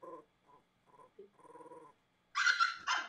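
Alaskan Klee Kai puppy whining and yipping in short intermittent bursts, ending in two louder, higher-pitched yelps close up; no talking.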